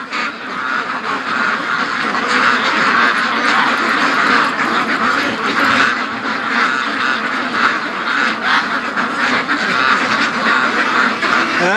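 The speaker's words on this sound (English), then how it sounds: "there's all my ducks coming back" Free-range ducks returning from the lake keep up a loud, dense chorus of overlapping quacks and honks close by, steady throughout without speech.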